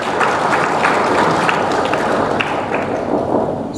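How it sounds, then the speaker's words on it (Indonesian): Steady, dense applause from an audience honoring the university deans at a meet-and-greet lunch, sustained and loud throughout with no pause. "Tepuk tangan untuk semua dekan kita."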